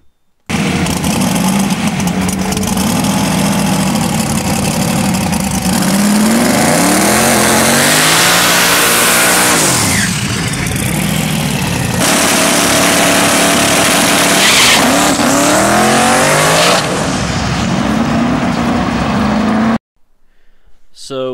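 A Nissan Skyline race car with a 481x billet engine at a race car test night revs hard and close, its pitch sweeping up and down repeatedly, with tire squeal mixed in for about twenty seconds before cutting off.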